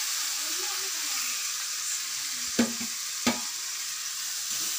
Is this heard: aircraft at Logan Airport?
no